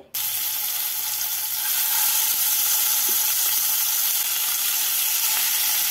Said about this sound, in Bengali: এবার এর মধ্যে মাছগুলোকে তুলে দিয়ে